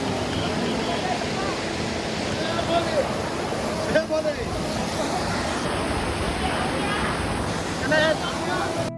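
An icy, snow-fed mountain river on the Amarnath pilgrimage route near Panchtarni rushes in a constant loud roar, with voices and crowd chatter over it.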